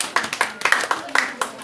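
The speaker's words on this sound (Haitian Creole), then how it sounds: "On applaudit Walki." Audience at a children's show applauding for a performer, a small group's brisk, uneven handclaps in quick bursts, fairly close, with voices mixed in.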